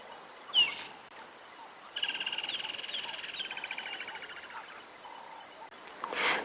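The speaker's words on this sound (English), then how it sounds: "Sounds like there's some wren warblers around as well." A high, rapid trilling call of wren warblers runs for a few seconds, with shorter chirps before and after in a quiet outdoor safari setting at sunrise.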